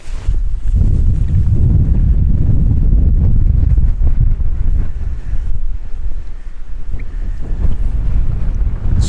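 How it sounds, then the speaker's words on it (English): Strong, gusty wind buffeting the microphone at a hilltop wild camp in the Yorkshire Three Peaks, a loud, continuous low roar throughout with no voices. "very breezy, but that's fine, we don't mind"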